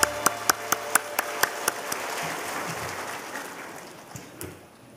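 A church congregation at a Korean Sunday worship service claps in a steady rhythmic beat of sharp, even claps, then breaks into loose, dense applause that gradually fades away.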